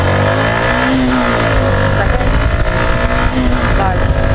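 A Suzuki Intruder 150 motorcycle accelerates in first gear, its engine note loud and close and climbing steadily, while someone talks over it.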